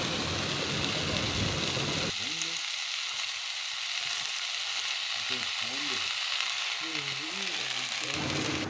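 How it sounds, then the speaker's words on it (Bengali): Malabar spinach stems, potato and pumpkin frying with a hilsa fish head for a ghonto, a loud continuous sizzle close by with scraping stirring strokes in the middle stretch. "পুঁই শাক ডাঁটি ও আলু কুমড়ো বেশ ভালো করে ভাজা হয়ে গেছে ওর মধ্যেই শাকগুলো তুলে দেবো অল্প অল্প করে"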